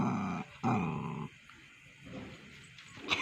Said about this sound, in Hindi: ये देखिए कुत्ता पकड़ने लगा है डंडू को